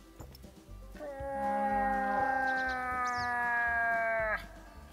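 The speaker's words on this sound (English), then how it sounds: "I can hear the moose call." Moose call in the hunting game theHunter: Call of the Wild, a long, nasal, bleating tonal moan rising in slightly and holding for about three seconds before stopping, fairly loud over a quiet low ambient background.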